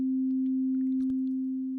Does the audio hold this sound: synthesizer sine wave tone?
yes